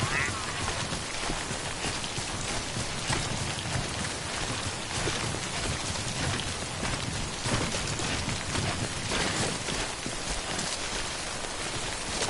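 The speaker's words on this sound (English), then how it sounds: "Good thing it was raining." Steady rain falling in the video game Death Stranding, a constant broadband hiss of drops on surfaces running unbroken throughout at moderate level.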